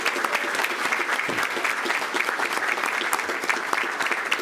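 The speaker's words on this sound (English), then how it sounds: "How about a round of applause?" A crowd applauds steadily at a school board meeting honouring an academic team, dense even clapping from many hands filling the room throughout, with no voices standing out over it.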